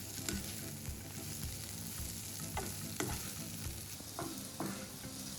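Chopped carrots are stir-fried in a pan with chili paste, making a steady, low sizzle under frequent scraping and stirring knocks.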